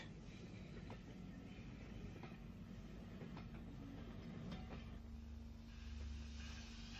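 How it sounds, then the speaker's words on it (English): A steam locomotive hauls a coal train from Medina Wharf into Newport on the Isle of Wight railway, a steady low rumble of wheels and engine with faint clicks, continuous and moderately distant, no voices. "Alverstone, enters Newport with a coal train from Medina Wharf"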